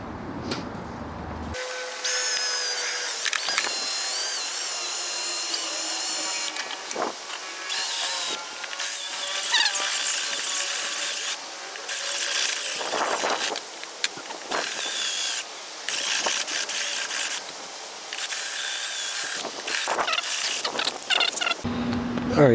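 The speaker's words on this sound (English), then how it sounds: "So now we're going to drill that hole out." A power drill bores a hole through a handlebar mount on a 2017 Suzuki GSX-R 600/750 sportbike, whining loudly in repeated bursts that start and stop with short pauses between them.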